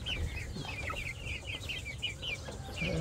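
Two-month-old Brazilian chicks in a backyard flock cluck and chirp in a quick run of soft repeated calls, moderately close over a low background rumble, with no voices.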